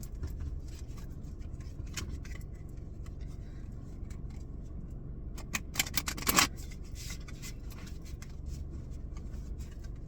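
Light Seers tarot cards are shuffled by hand at close range, producing soft, irregular riffling and scraping over a low background hum, with a brief flurry of louder card slaps just past the middle.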